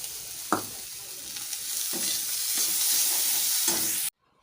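Rice frying with egg and Maggi masala in a pan, a steady broadband sizzle with a few sharp stirring scrapes throughout, close and fairly loud, ending abruptly.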